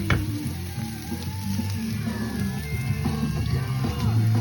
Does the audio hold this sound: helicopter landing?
no